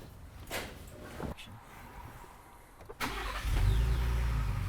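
A Ford Raptor truck's engine cranks and catches about three seconds in, then settles into a loud, steady near idle after some quieter movement and faint voices.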